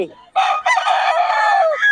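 A rooster at a poultry seller's place crows loudly and close by, one long drawn-out call that breaks briefly before carrying on steadily and ending with a short rise.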